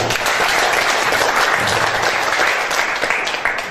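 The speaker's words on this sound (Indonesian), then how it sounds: "Aplaus buat kita semua." Loud, dense applause from an audience at a cooperative business meeting, continuous clapping from many hands that fills the room and tapers slightly at the end.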